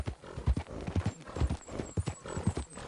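Horse hooves clip-clop in Red Dead Redemption 2, a steady close rhythm of alternating hoofbeats at a trot, with faint creaks and ambient wind behind.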